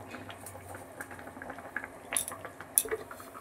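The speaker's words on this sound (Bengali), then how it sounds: "এবার কড়াইটাকে আমি ঢেকে দেবো।" A metal lid goes onto a wok of simmering fish curry with a couple of bright clinks, over a low bubbling murmur and faint kitchen clatter.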